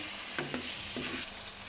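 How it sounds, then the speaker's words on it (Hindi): Homemade butter sizzling in a pot of aloo gosht, a quiet steady hiss with two or three soft knocks of stirring. "इसमें मैं ऐड करूँगी मक्खन।"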